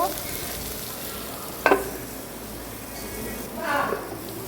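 Ground spice paste for a rohu fish curry with green banana and potato fries in a pan with a steady close sizzle. A couple of sharp stirring scrapes cut through the hiss.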